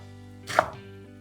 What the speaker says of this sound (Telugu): ఇప్పుడు మెంతి కూరని కొంచెం కచ్చా పచ్చాగా కట్ చేద్దాం